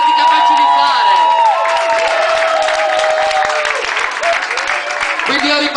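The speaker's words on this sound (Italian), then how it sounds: "facciamoci un applauso per quello che siamo stati capaci di fare" An audience at a Queer White Party event claps and cheers for several seconds, with dense applause mixed with whoops and shouts and a voice rising above the crowd.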